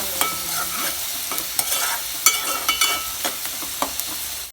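Onions frying for Andhra-style gongura chicken are stirred in a pan, a steady sizzle broken by a series of sharp spoon scrapes and clicks against the metal, close and moderately loud, with no talking.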